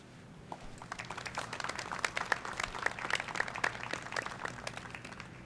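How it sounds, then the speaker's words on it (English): An audience applauds healthcare workers at a Long Beach COVID-19 press briefing, a steady patter of many hands clapping that swells and then holds, moderately close with no talking over it. "let's give one last round of applause for our healthcare workers"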